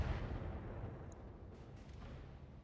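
Mech cannons firing in the battle game RogueTech: a dense, booming artillery-like blast with a rumbling low-end tail that stays loud and fades slowly over a few seconds, with no voices.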